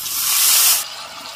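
A little water goes into a hot pan of sea fish curry with mustard paste, green chilli and chilli powder. It gives a loud, sharp sizzling hiss that lasts under a second, then drops to a low simmer.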